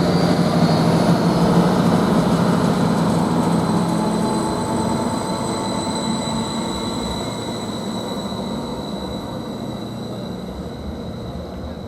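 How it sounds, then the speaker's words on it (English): A Greater Anglia passenger train runs through Ely station with a sustained rumble and high whining tones, loud at first and slowly easing as it moves away. "Now this Greater Anglia train"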